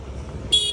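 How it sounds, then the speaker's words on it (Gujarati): Car horn honking in a traffic jam on a bypass road, one brief bright toot rising over low road rumble, near and loud. "હોરન ના વગાડ."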